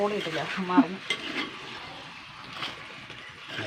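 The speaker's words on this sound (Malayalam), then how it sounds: "നന്നായി ഇളക്കുക" Curry with turmeric powder stirred in hot oil in a frying pan gives a soft, steady sizzle with a few louder scraping clinks near the start, close by and with no talking.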